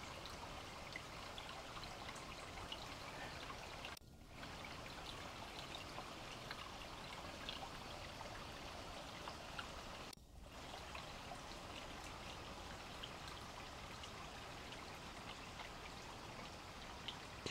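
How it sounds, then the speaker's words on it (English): A small stream trickles on an autumn afternoon walk beside a pond with water lilies, a soft continuous babble and patter heard faintly and steadily with no voices. "I can hear a little stream."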